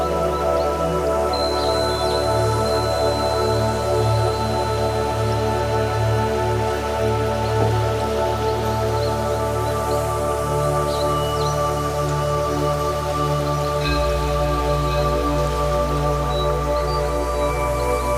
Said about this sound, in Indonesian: Di sini ada sumber air bersih dari stalaktik karena tidak ada sumber air lain. Jadi, aku akan menadah airnya.